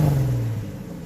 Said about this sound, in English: I believe it's a catback MagnaFlow exhaust